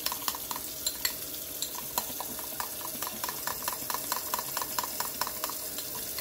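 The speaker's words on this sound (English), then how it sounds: "Just stir that really well." Gravy for beef stroganoff stirred in a pan, a rapid, regular run of spoon scrapes and taps over a soft bubbling sizzle, no talk.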